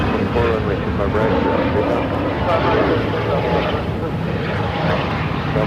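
Airliner engine noise at Phoenix airport, steady and loud with broadband roar throughout, as a Southwest jet arrives on the runway; radio-style talk may sit faintly underneath.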